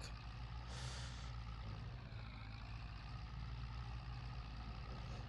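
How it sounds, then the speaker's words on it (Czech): A Zetor 7745 tractor labours under load in third gear while rolling a field with a PB5-032 roller, its low diesel drone steady and close, with a brief hiss partway through. "A jak vidíte, na tu troječku se mu moc rozjíždět nechce."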